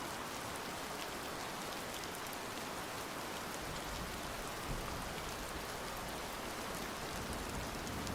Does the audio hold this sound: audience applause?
no